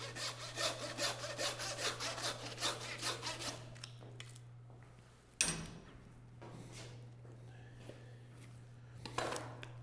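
A saw cuts through a bison front quarter into ribs, rhythmic rasping strokes loud and close for the first few seconds, then quieter scraping and trimming sounds with a steady low hum underneath.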